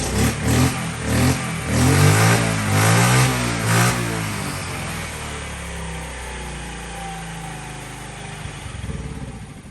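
Motorcycle engine running close by, revved in several loud rising bursts before settling into a steady idle with a slight rise near the end.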